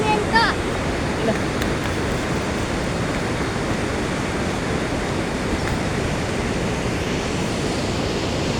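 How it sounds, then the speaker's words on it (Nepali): The Seti river in Nepal flows as a steady, loud broadband rush of water that fills the whole stretch without pause. "कुन खोला हो यो भन न। सेती खोला।"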